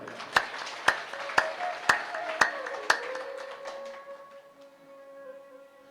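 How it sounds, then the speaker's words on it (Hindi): At a Shrimad Bhagavat Katha religious gathering, six sharp, evenly spaced claps ring out about half a second apart, then give way to a fading, lingering musical tone. "तालियां बजाओ"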